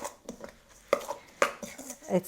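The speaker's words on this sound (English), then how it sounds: "I'm just going to use a spoon to mix it up." A spoon works through softened coconut oil in a bowl, making a few irregular soft taps and short scrapes, some sharper than others, heard up close in a quiet room.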